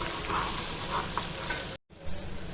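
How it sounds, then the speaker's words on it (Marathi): Chopped onions sizzle and fry in a hot pan as they are stirred toward browning for pav bhaji, a steady dense crackle with a few scraping stirs, broken by a short gap before the frying resumes. "कांद्याला एक दोन मिनटं परतून घ्यायचं ब्राऊन होतपर्यंत"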